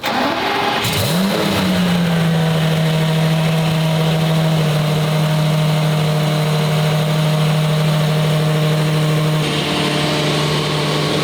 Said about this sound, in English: Can we start this thing up? We're gonna cold start it and just redline it.